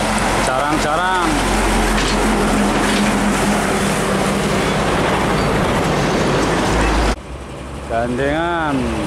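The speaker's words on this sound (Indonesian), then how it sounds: "Nissan diesel gandengan jarang-jarang" A Nissan diesel truck pulling a trailer drives past, its loud, rumbling engine filling most of the clip before cutting away abruptly. Someone speaks over the engine noise and again after it ends.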